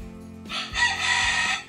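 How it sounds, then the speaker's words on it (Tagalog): A rooster crows once, loud and close, a single sustained call over a faint low hum, at night. "Ayun, manok."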